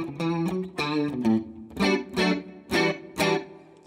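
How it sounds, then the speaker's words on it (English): Electric guitar playing a short riff through a chorus effect, giving a shimmering, wavering 80s tone with several strummed chords. "It just gives you that classic, like, 80s chorusy tone."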